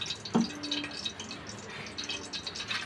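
Cooking oil poured into a pot for vegetable biryani with meal maker, a short, close liquid trickle and splash with a few drip-like sounds, and no voices.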